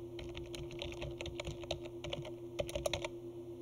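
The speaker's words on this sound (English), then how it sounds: "Press Enter and then type Staff Retreat." Typing on a computer keyboard while working in Word, a run of quick, light key clicks with a few sharper strikes near the end, close and moderately quiet over a faint steady hum.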